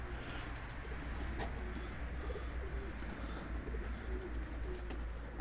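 Pigeons coo softly at a busy bird market in Zgierz, their low calls faint beneath a steady wash of crowd and background noise.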